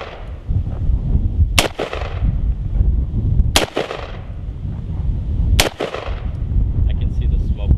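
Three loud, sharp gunshots ring out about two seconds apart, each fired at a bullet-resistant armor plate on an outdoor range, with steady background noise between the cracks.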